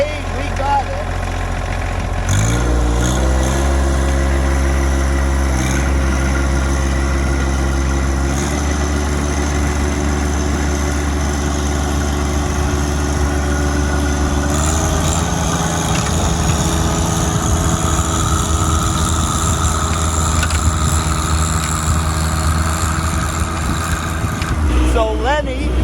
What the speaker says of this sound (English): So we're gonna use the snowblower.